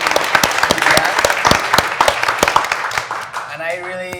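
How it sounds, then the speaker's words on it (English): A seated audience at a talk about immigrant life in Canada breaks into loud, close applause that thins out toward the end as a voice begins speaking. "Let's give applause to Vivian."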